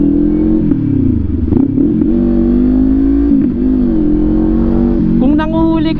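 A car engine with a loud aftermarket exhaust pipe drones and revs steadily up close on a street in Bacoor, its thick, rumbling tone continuous throughout, with a voice briefly audible near the end.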